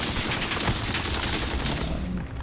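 Sustained gunfire in Call of Duty Warzone: a loud, continuous stream of rapid automatic shots, steady and close, with no talking over it.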